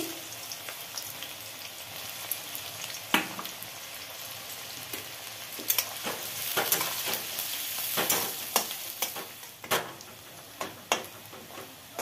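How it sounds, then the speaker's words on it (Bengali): Onions fry lightly in a pan before going into a chicken curry. A soft, continuous sizzle runs under irregular clinks and scrapes of a spatula stirring against the pan. "এবার মাংসের জন্য পেঁয়াজগুলো ভেজে নিচ্ছি।"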